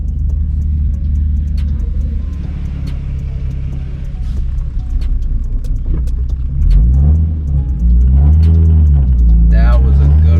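A Nissan 350Z with a manual gearbox climbs a steep hill, its engine droning loudly under the cabin, then revving up through a rough shift into second with rising, falling pitch, while people talk inside.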